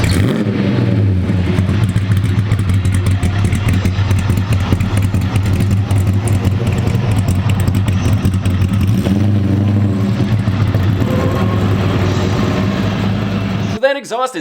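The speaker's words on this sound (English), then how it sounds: "Check out this exhaust clip." A powerful car engine rumbles and revs steadily up close, its deep exhaust drone loud and continuous, with a brief higher whine at the very end.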